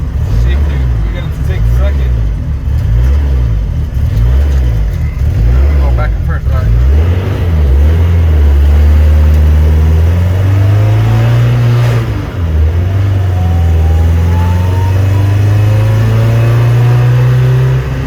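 Racecar engine idling then revving as gears are shifted back and forth in a GSR transmission with a bad second gear, loud close rising and falling engine tones, with voices talking over it.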